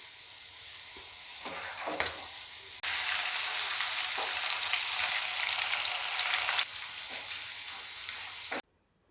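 Corn kernels deep-frying in hot oil make a loud, steady, hissing sizzle that surges sharply for several seconds when a batch goes in, then eases back to a lighter bubbling before cutting off.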